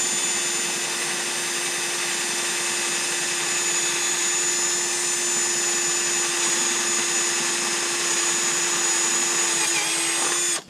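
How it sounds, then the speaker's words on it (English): Power drill boring into a car's interior cabin panel for a switch mount, one long continuous high whine held close and loud for about ten seconds before stopping. "Now drilling the spot to put the switch."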